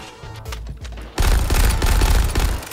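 Dense bursts of gunfire from the video game Suicide Squad: Kill the Justice League, a few scattered shots at first and then a loud, sustained barrage of rapid blasts with heavy low booms.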